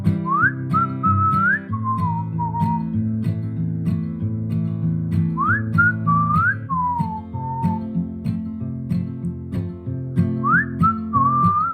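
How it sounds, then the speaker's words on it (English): A whistled melody from Snowbank Blues by The Backseat Lovers, clear sliding phrases repeated three times over steady picked acoustic guitar, with no voices. "And then he does the whistle part."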